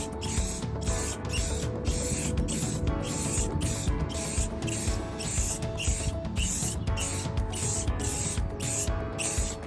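Spray paint hissing onto a carbon fiber wing in short rhythmic bursts, each blast about half a second with brief gaps, close and steady, with no talking.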